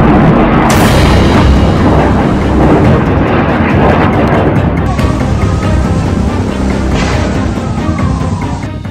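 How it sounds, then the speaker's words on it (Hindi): Israeli bombardment near Gaza hospitals: loud, sustained booming and rumbling blasts fill the whole stretch, with a sharp burst early on and a continuous roar like aircraft or artillery, heavy and close throughout. "इजरायल अब इन अस्पतालों के आसपास लगातार बमबारी कर रहा है।"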